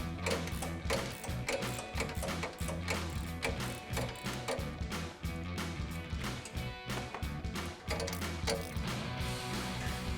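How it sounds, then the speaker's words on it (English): A ratchet and socket work loose a strut top nut on a 2015-2024 Mustang GT during a suspension install, with steady fast clicking of the pawl, close and continuous, with no speech. "Then you'll get a 10mm socket to hold the stud, and we can start loosening this up."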